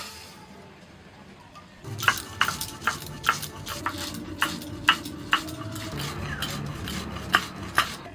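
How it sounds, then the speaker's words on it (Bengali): Repeated sharp scraping knocks at an uneven, steady pace as roasted spices are crushed and ground in a mortar, close by with no talking. "ভাজা মশলা গুঁড়িয়ে নিচ্ছি"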